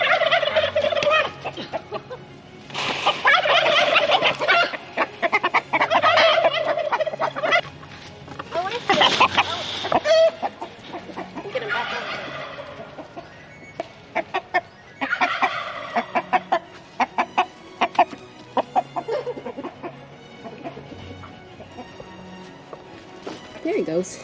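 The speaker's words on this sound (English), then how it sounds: "Oh, I have a rooster out." A loose rooster squawks and cackles loudly in repeated bursts while being chased around a farmyard, its calls close and agitated, with a person talking and breathing between them.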